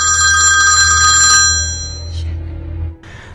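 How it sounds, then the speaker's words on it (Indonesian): A telephone rings loudly in a tense scene from the 2010 film Trust: a bright, steady electronic trill with a low hum beneath, which cuts off partway, leaving quieter background sounds and brief noises. "Telepon ibunya pun berdering"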